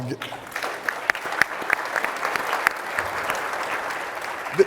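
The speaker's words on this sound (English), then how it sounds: "Round of applause." Audience applause at a summit panel on play equity, sustained clapping with a few sharp individual claps standing out near the front, and a voice briefly heard.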